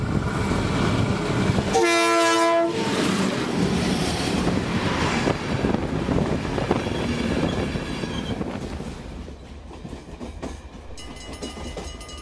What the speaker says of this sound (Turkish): masal treni yeniden yola koyuluyor